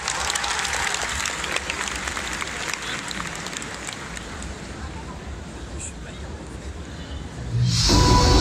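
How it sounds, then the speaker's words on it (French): An audience at a stage event claps loudly in sustained applause as a performer dressed as Commander Shepard from Mass Effect arrives, with crowd noise mixed in and a louder swell near the end. "Je vous demande de l'applaudir bien fort"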